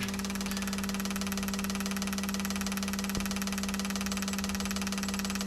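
A fuel injector flow tester runs an idle test, humming steadily, a constant mechanical drone with a faint whine, one brief click partway through.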